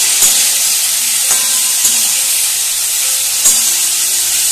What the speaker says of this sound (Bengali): দিয়েও আবার ভালো করে নাড়িয়ে চাড়িয়ে নিচ্ছি।